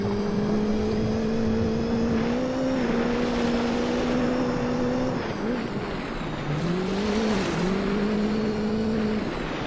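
A race car in Gran Turismo 3 howls at high revs through a series of corners, its engine note rising and dipping with shifts and lifts as a continuous loud drone with no talking.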